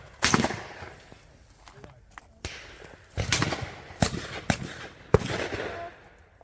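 Shotgun shots crack out at a clay shooting ground, several sharp, close reports spaced a second or so apart, with softer knocks and quiet gaps between them.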